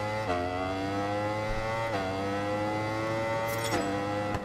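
Aprilia motorcycle in the racing game RIDE 4 at Donington, its engine revving hard through repeated gear changes, each shift dropping the pitch before it climbs again, loud and close.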